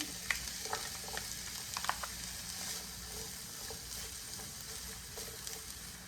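Onion frying in three tablespoons of olive oil, giving a quiet, continuous hiss of sizzling with a few faint stirring taps, close by and without talk.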